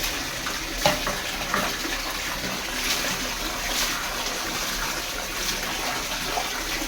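Plain water is poured over a pet during a bath, a continuous close splashing stream with small irregular spatters and drips and no talking.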